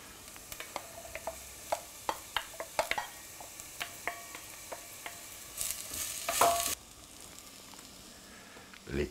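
Onions sweating with bell peppers in a pan for pork and veal meatballs in tomato sauce, a faint sizzle under repeated spoon taps and stirring clicks, with a louder burst of frying partway through.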